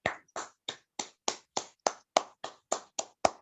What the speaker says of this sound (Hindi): तो आप जोरदार तालियां बजा सकते हैं